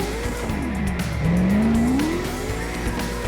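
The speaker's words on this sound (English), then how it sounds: "I just wanted to keep drifting when I recorded this video," Drifting car in the video game CarX Drift Racing Online, with a loud continuous tire squeal rising and falling in pitch over a steady engine drone, skidding through the corner without talk.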